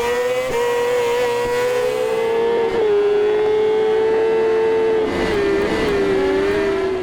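Motorcycle racing in the video game Rims Racing, a loud steady engine whine that holds its pitch and dips briefly during gear changes or corners, continuous and close throughout.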